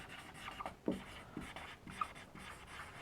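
Pen writing on paper during a Class 10 maths lesson on areas related to circles, soft continuous scratchy strokes with small pauses, quiet and close with no talking.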